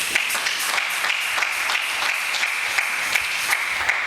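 A church congregation applauds loudly and steadily, a dense wash of many hands clapping together without pause, close and full, with no voices rising above it.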